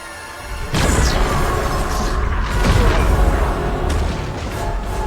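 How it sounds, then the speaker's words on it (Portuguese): Supergirl's heat vision fires at a villain in an animated superhero action scene: a sharp booming blast erupts into a loud, sustained crackling roar with rumbling, explosive bursts. "a Supergirl se enfurece e dispara sua visão de calor no vilão"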